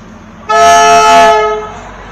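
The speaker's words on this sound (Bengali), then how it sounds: "ট্রেন ঢুকছে, টয় ট্রেন কার্শিয়াং স্টেশনে।" Diesel toy train pulling into Kurseong station on the Darjeeling line, sounding one loud, sustained horn blast of about a second that rings close by and then trails off.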